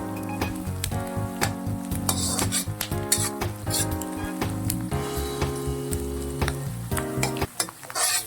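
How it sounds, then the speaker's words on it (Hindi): Onion and green chillies frying in oil for a mustard leaf sabzi, a steady sizzle with stirring and clinks of a spoon against the pan, set against background music throughout. "हरी मिर्च डालने के बाद अब फिर मैं इसे पकाऊंगी।"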